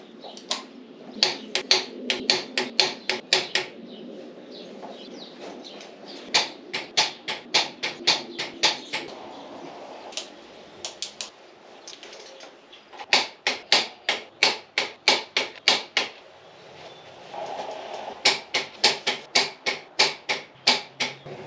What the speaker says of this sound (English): I'm gonna go ahead and torque all these rims to the proper torque spec